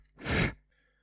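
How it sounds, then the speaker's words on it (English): A single short puff of breath blown straight into a microphone, a loud breathy rush that swells and fades within half a second, close and alone. "I can blow into the microphone."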